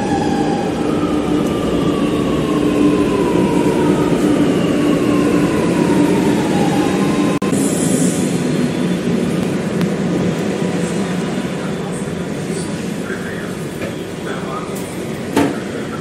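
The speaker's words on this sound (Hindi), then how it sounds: "चारबाग मेट्रो स्टेशन भाई देख लो, यहाँ का मेट्रो स्टेशन काफ़ी खूबसूरत है। चलो भाई अपने मेट्रो।" A Lucknow Metro train at Charbagh metro station rumbles loudly and steadily, with a faint rising whine, a few light clicks and a brief knock near the end, and no talk heard.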